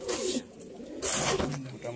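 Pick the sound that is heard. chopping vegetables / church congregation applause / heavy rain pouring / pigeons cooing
pigeons cooing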